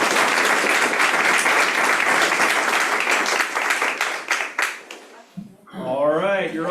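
An audience at a team meeting applauds a presenter off the stage, dense clapping loud at first and thinning into scattered claps before a voice begins speaking near the end.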